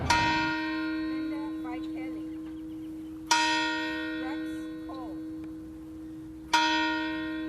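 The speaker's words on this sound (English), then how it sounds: "the bell rang 102 times yesterday at the historic Waiоla Church in Lahaina" The historic Waiola Church bell in Lahaina tolls three times at slow, even intervals, each clear ringing strike followed by a long, slowly fading hum.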